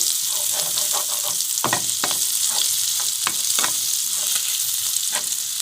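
Beaten egg mixed with onion and tomato sizzles loudly in a hot pan, a dense continuous frying hiss punctuated by sharp scrapes and clicks of a spatula stirring close by, with nobody speaking.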